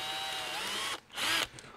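A power drill whines steadily while drilling holes for a Corvette Z06 spoiler and wing fabrication, then stops, followed by a short second burst and a brief tail-off.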